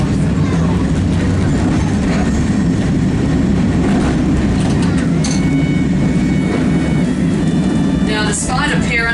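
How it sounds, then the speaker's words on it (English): An old Melbourne tram rocks along a waterfront line in Auckland, New Zealand, giving a steady, close rolling rumble with faint rattles that carries through the whole stretch. "Despite appearances, this is actually a Melbourne tram."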